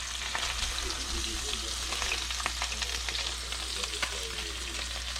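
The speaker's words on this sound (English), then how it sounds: "I love cooking trout in butter because that butter will just saturate it" Trout frying in butter in a pan outdoors, a close and dense continuous sizzle with small crackles and pops, steady throughout and without speech.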